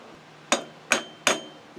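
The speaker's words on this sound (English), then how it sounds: "we hammered the brakes free" Seized brakes on a Suzuki LT500R quad, stored nine years, being hammered free: three loud, sharp metallic blows, evenly spaced and close, each ringing briefly before the next strike.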